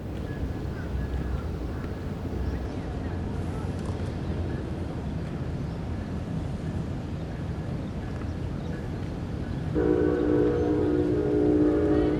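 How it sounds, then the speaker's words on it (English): A distant Amtrak Northeast Regional passenger train rumbles steadily along the New London waterfront, growing slightly louder, with a horn-like tonal chord sounding near the end. "the sound of a train is audible even from this distance"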